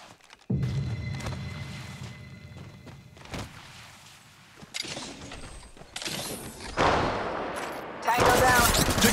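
Gunfire in the video game Apex Legends: rapid bursts of shots, mechanical weapon clicks and thuds that grow louder and denser toward the end, with a brief voice line partway through.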